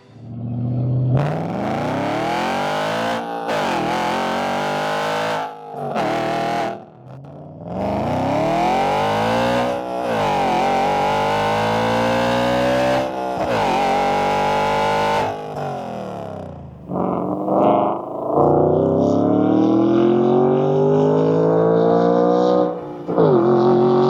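A loud Audi RS4 B7 high-revving naturally aspirated 4.2-liter V8 revs hard through repeated rising sweeps, the pitch climbing and dropping between gear changes, close and sustained with no talking.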